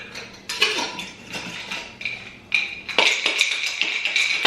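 Coffee being made at home brings a run of sharp clinks and taps of cups, spoons and kitchenware, fairly close and irregular, with no talking.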